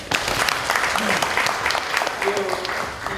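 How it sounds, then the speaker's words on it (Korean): Loud, dense audience applause at a Korean provincial immigration policy committee launch ceremony, continuous clapping from a close crowd throughout, with voices mixed in. "박수 한번."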